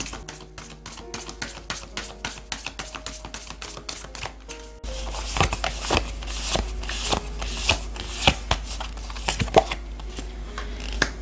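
Oracle cards shuffled by hand for a weekly tarot reading, a fast run of crisp riffling flicks that goes on steadily and gets louder and denser partway through, close to the microphone, with no talk.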